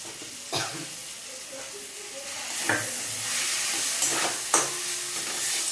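Young jackfruit frying with spices and a pinch of asafoetida in a pan, a steady hissing sizzle broken by several sharp scraping stirs at uneven intervals, close and fairly loud, with no one talking.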